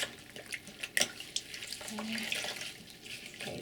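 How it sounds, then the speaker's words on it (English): Water from a tap rinsing a foot during foot care, a soft, fairly quiet running and splashing with a few light knocks and drips near the start. "we're going to rinse the entire foot, including between the toes"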